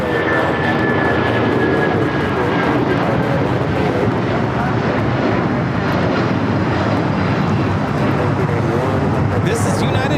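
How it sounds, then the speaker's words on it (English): A United Airlines Boeing 757-200 takes off from LAX bound for Newark, its jet engines a broad, sustained roar throughout, heard at a distance with voices talking over it. "This is United Airlines 1981 taking off to Newark on the 757-200."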